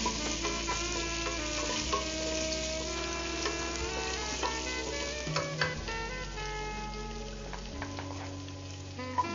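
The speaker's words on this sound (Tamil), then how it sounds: "இந்த வெங்காயம் வதங்கட்டும்" Onions fry in a pan for mustard mango chicken, a continuous sizzle with repeated stirring clicks and scrapes, heard under steady background music.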